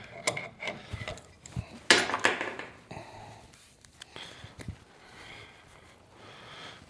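A nut is threaded by hand onto the spindle over brand-new wheel bearings on a 1956 Cadillac, giving soft metallic clicks, ratchety scrapes and light knocks, close and quiet, with brief breathing noises and no speech.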